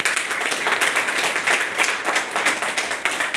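Applause fills a company foundation-day anniversary event in a hall, a steady dense wash of many hands clapping close by throughout, with no voices over it.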